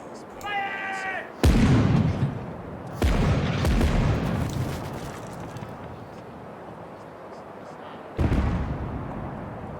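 Ship cannons firing broadsides in the naval combat game Caribbean Legend: loud, deep booms strike at intervals, each followed by a long rumbling tail, with a brief tonal sound beforehand and no voices.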